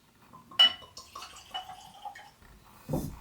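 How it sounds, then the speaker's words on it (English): Cask-strength peated Highland whisky, aged 18 years, is poured from its bottle, with soft glassy clinks, trickling liquid and a few sharper taps from the bottle against the glass, close by and fairly quiet. "Anyways, let's give it a pour."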